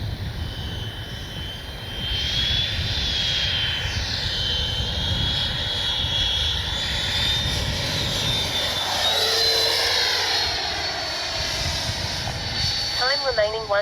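A Freewing 90mm F-22 RC jet makes a low pass with its landing gear down, its ducted-fan whine loud and steady, rising and shifting in pitch as it sweeps past, with wind noise over the microphone.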